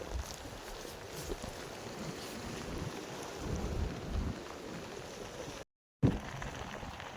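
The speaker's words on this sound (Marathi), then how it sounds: "वारा पण भरपूर आहे." Strong wind buffets the microphone at a jetty by the sea during rainy weather, a steady loud rushing roar that goes on throughout and cuts out briefly near the end.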